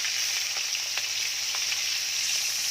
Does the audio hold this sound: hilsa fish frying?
yes